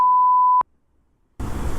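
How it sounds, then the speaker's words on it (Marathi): A steady electronic censor beep runs over a man's speech for about half a second, then silence, followed by noisy outdoor sound. "सॉरी इथं बीप करावं लागल"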